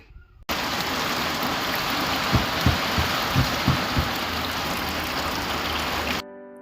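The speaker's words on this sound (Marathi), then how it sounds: "वर्षी आमच्याकडे लवकरच जोरदार पावसाचं आगमन झालं" Steady, dense heavy monsoon rain roars without pause over farmland in Marathwada, with a few soft low thumps partway through.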